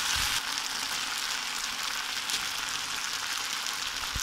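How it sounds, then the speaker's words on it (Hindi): Cauliflower for gobhi manchurian sizzles in a hot pan as a steady, close hiss with a faint stir at the start and end. "अब हम इसमें अपनी गोभी मिक्स करेंगे।"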